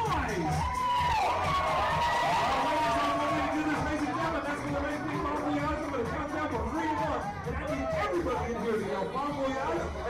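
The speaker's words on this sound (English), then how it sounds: "I need someone to clap your hands and make some noise" Passengers aboard the Spirit of Baltimore lunch cruise cheer and whoop loudly in a sustained, lively burst of crowd noise mixed with chatter and voices throughout.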